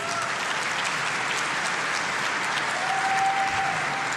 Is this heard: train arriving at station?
no